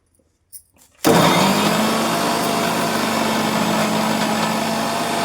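A kitchen mixer grinder starts abruptly after a moment of quiet and runs steadily at a loud, high whine while blending ABC juice, with a dense motor drone throughout.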